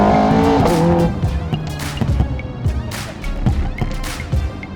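Ferrari Scuderia supercar accelerating hard near the listener, its engine note rising and dropping through several abrupt single-clutch gear shifts with sharp kicks between them, loud and continuous.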